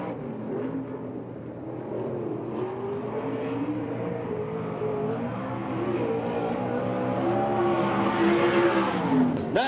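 A USAC/CRA sprint car on a qualifying lap at Phoenix snarls past, engine pitch rising and falling through the turns, loud and steady before a sharp swell near the end, with no talk over it.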